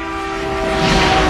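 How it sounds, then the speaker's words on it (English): A train in the video game Resident Evil 0 HD gives a steady tonal horn or whistle blast over a low rumble, holding loud and constant with no voices. "Trains! Where's Thomas the Train?"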